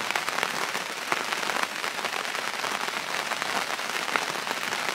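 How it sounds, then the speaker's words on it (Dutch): Steady rain falls on a campsite, a constant dense patter of drops with no let-up, moderately quiet and close by, with no voices. "Het regent."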